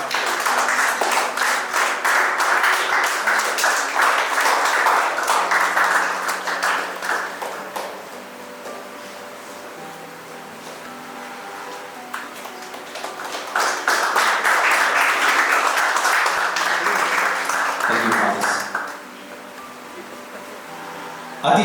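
At a short film festival awards ceremony, an audience claps in two separate bursts, each lasting several seconds, with a quieter stretch between them where a low tone and a few scattered claps carry on.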